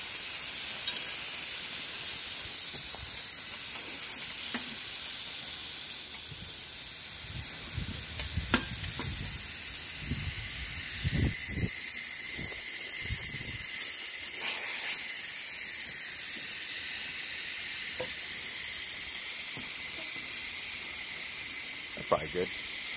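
Air hissing steadily out of a trailer tire with the valve stem pulled, set on a Harbor Freight tire changer; a continuous, fairly loud hiss runs throughout, with a few faint knocks and bumps underneath.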